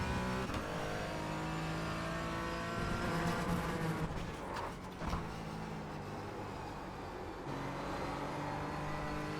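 A Porsche Cayman GT4 engine is driven hard around the Brands Hatch circuit, with a continuous loud drone that rises and falls as the car revs and shifts through corners.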